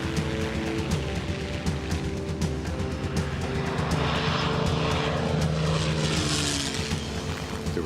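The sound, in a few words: P-51 Mustang fighter plane engine at full throttle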